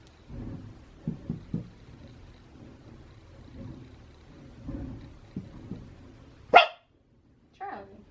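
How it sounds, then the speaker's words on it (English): A dog barks inside a home during a classroom-style lesson, a few faint scattered woofs early on, then one sharp loud bark and a shorter bark after a brief silence, with no talk over them. "he barks a lot"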